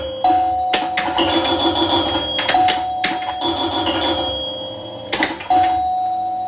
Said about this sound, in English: And I love these chimes.